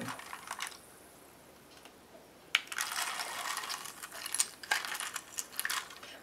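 Metal dog tags clink and rattle as they are lifted out and handled, with light jingling taps at first, then a denser run of close metallic clatter after a brief lull.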